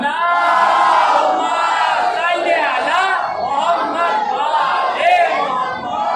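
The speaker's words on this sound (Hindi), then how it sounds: "सलवात पढ़ें मोहम्मद वाले मोहम्मद पर" A majlis crowd in Saharanpur recites salawat aloud together, many voices chanting in loud overlapping waves that swell and fall for several seconds.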